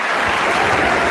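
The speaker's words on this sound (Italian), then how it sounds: "Applausi." Applause on a radio call-in show, a brief dense wash of clapping, loud and even, lasting about a second.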